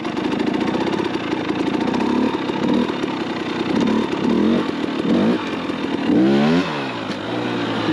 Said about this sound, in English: I just give it a little throttle, no clutch at all.